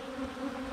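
Honey bees hum at an open hive of worker bees, a steady low buzz close by with no talk over it.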